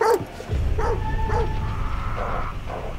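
A dog in The Devil in Me horror video game gives a short string of yelping barks and whimpers, close and fairly loud, over a low background rumble with no talk.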